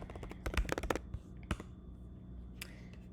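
Typing on a computer keyboard while searching an Anki flashcard deck, a quick burst of close, crisp key clicks early on, then a single tap and a few scattered light presses against a quiet room.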